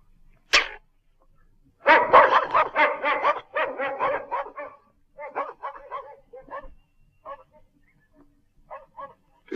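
Several dogs bark near a tavern in a rural Romanian setting: one sharp early bark, then a loud, dense burst of overlapping barks and yips that thins into scattered, fainter barks.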